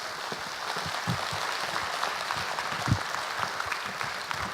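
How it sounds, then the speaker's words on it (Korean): Audience applause during a Korean talk show on considerate traffic culture, a broad steady patter of many hands clapping that holds evenly throughout. "다시 한번 우리 김선희 작가님께 박수 부탁드리도록 하겠습니다."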